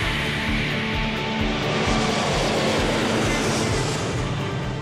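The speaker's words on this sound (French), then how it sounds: "Et le plus gros avion civil du monde prend son envol." A loud, continuous jet engine roar fills the air as the world's largest civil airliner takes off, a broad, steady rumble with no talking.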